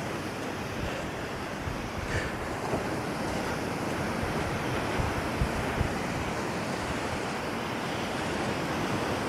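Sea waves breaking on rocks at a beach on the Bulgarian coast, a continuous loud roaring wash of surf mixed with gusty wind buffeting the microphone, no voices heard.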